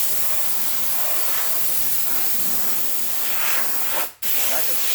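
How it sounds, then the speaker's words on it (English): A high-pressure compressor spray blasts car tires and wheel wells, giving a loud, steady, close hiss that cuts out sharply for a moment near the end before restarting. "I can spray everything I need right here"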